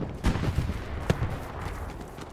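Shots fired during a friendly team match at Utah Chapel: a few sharp, fairly close cracks, with one burst early and another around the middle, over a steady rustling background and no talk.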